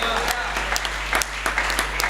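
A church congregation at a Sunday worship service claps in a scattered, uneven burst, the claps standing out over a steady low electrical hum in the room.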